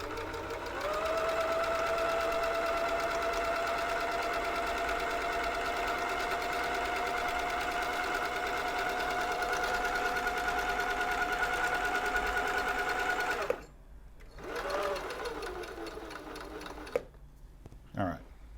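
An old Husqvarna sewing machine running at an even, humming drone with a steady motor whine for several seconds, then stopping, followed by brief rattles and clicks as it is handled.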